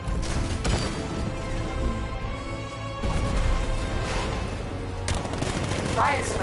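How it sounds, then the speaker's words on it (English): A tank's 60mm cannon fires in the Batman: Arkham Knight video game, giving loud, heavy blasts that repeat amid dense combat noise and crashing debris. "60mm cannon operational."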